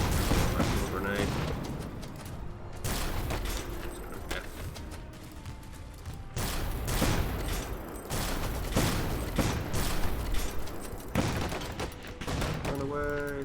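Grenade blasts and rattling gunfire from the real-time strategy game Iron Harvest, bursts of shots and explosions repeating across the battle under steady commentary voices.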